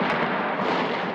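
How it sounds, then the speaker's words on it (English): Dense, continuous roar of gunfire and blasts on a bridge during anti-government protests in Egypt, loud and sustained with no pauses, like heavy shooting nearby. "Gunfire on the bridge aimed at anti-government protesters."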